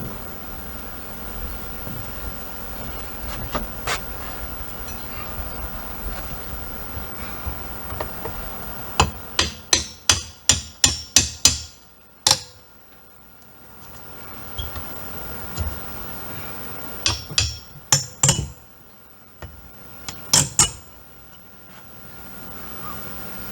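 A hammer knocks out the nails holding a window's outer flange: a quick burst of sharp metallic taps in the middle, then a few more scattered strikes after a short pause, over a faint room hiss.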